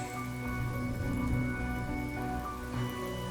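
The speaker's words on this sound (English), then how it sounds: "Without this rain, the catechins would never take action" Steady rain falls in the Honkai Star Rail video game, a continuous dense patter mixed with a low background hum and no voices.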